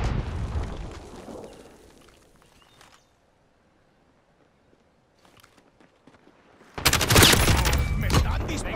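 Gunfire rattles in Call of Duty Modern Warfare, a heavy volley at the start that fades into near silence, then a loud, dense fusillade bursts in close at the end.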